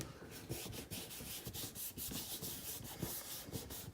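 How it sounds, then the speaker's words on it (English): Steady close rubbing of an ink pad across a craft stamp, heard as a quick run of scratchy back-and-forth strokes with no talking. "I'm going to rub that onto our stamp. Give it a good rub, make sure you've got full coverage."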